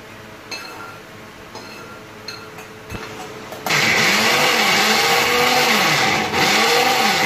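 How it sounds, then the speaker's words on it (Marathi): A mixer grinder blends cooled tomato and onion masala. After a few light clinks and handling noises, the motor kicks in loudly and keeps up a harsh, wavering whir to the end. "थोडं जरा थंड झाला की आपल्याला मिक्सर मध्ये टाकून टाकूया"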